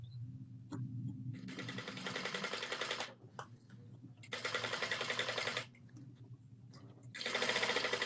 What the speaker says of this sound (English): So I'm sewing my flap at a 1/2 inch seam allowance.